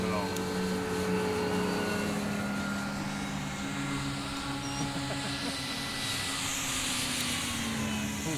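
A Hangar 9 OV-10 Bronco 30cc model airplane cruises with full flaps at about quarter power at SEFF 2024, its steady engine drone continuous and fairly loud throughout, with a person talking over it.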